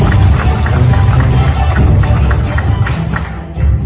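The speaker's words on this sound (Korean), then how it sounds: "환영의 박수 부탁드립니다." Welcoming applause at a regional forum in Gyeongbuk as guests are introduced, a dense, loud burst of clapping from a seated audience that runs steadily before tapering off.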